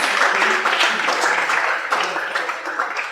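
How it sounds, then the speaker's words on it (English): An audience applauds at a lecture event as the speaker is welcomed to the stage, a dense, steady wash of many hands clapping at close range, sustained without pause throughout, with faint voices mixed into the crowd noise. "Please keep clapping, keep clapping, keep clapping."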